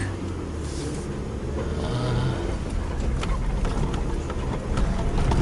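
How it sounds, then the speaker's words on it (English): A Suzuki Jimny 1.3 with a slipping clutch pulls away in city traffic, its engine note rising steadily as it accelerates amid surrounding road noise. "I can, up to speeds of 50-60 kilometers, can accelerate along with the rest of the traffic"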